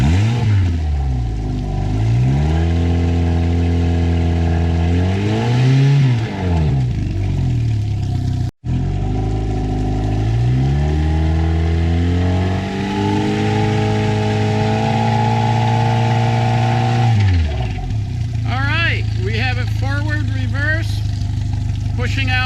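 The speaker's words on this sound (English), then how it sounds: "And let's see, can we rev it a little?" A MerCruiser inboard engine in a 2012 Boston Whaler 170 Montauk, freshly fitted with a new impeller after a cold start, revs up and down in long rising and falling sweeps, loud and close, with a steady idle in between.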